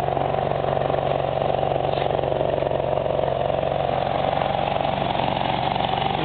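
The exhaust of a BMW E34 M5 fitted with an aftermarket muffler, its silencer insert in place, hums at a steady idle with a rapid, even pulsing throb, close and constant throughout, with no voices.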